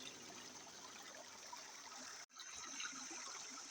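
A clear river stream flowing steadily, a continuous broadband rush of water heard close by, with a brief dropout midway.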